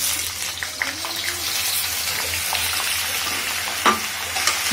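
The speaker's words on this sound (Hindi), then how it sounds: "पहले हम आलूओं को शैलो फ्राई करेंगे।" Potatoes shallow-fry in about three tablespoons of hot oil in a kadhai, giving a steady low sizzle with small crackles and an occasional stir clink close by.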